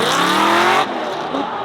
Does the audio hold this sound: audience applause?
no